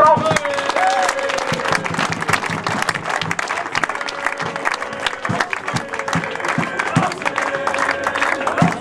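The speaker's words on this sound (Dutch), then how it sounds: "En een applaus voor Hans!" Loud, sustained applause rings out at a farewell gathering for Hans at TOP/Wereldtickets, many hands clapping close by with a few cheers, while people talk over the clapping.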